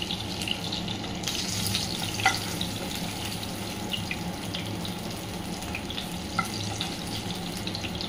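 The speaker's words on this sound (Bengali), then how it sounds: "এই যে মাছগুলোকে আমি ভালো করে উল্টে পাল্টে ভেজে নিয়েছি" Pieces of rui fish fry in hot oil in a home kitchen, giving a steady, fairly loud sizzle with occasional small pops and no talking.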